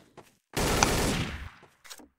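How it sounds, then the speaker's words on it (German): A single burst of rapid automatic gunfire in the video game Trouble in Terrorist Town, on the Nuke Town map, rattles for about a second, loud and harsh, with faint voices murmuring just before and after. "Wo kommen die Schüsse?"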